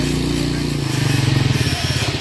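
A converted electric scooter fitted with a 100cc Rusi engine runs close by, giving a steady low, buzzing putter with a slight pulsing rhythm throughout, while voices talk over it.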